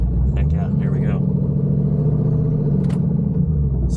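A supercharged Pontiac G8 with a TH400 transmission swap rumbles steadily from inside the cabin with a deep engine drone and a faint whine while someone talks over it.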